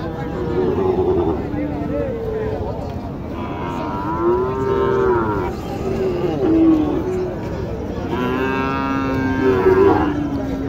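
Sahiwal cattle and bulls moo repeatedly at a busy cattle market in Naogaon, their long low calls rising over steady crowd babble and people talking nearby.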